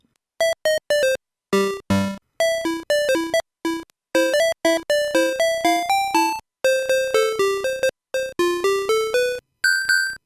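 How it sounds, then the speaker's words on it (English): Bright chiptune tones from the Game Boy's square-wave sound channels play a quick, bouncy melody in short staccato notes with brief gaps, crisp and electronic with no voices. "2 square waves that sound like this"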